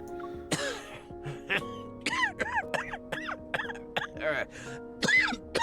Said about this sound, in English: a bone-chilling laugh resounds, following by a feeble coughing fit.